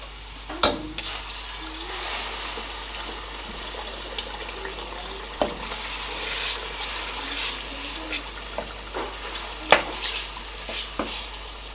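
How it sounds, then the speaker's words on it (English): Steady sizzling of tomato frying in a pan for a Nigerian vegetarian stew, with occasional stirring scrapes and clinks over a constant crackling hiss. "So guys, I'm gonna fry this tomato. I'm just gonna keep frying it"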